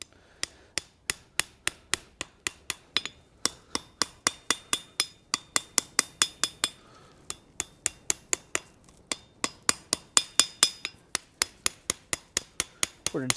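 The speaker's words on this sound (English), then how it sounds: "We're going to just keep hammering that, getting that upset in there, getting it nice and squared up." A hammer strikes hot iron on an anvil while forging a simple latch, producing a long run of sharp, ringing metallic blows at a steady brisk rhythm with brief pauses, close and loud, with no talk.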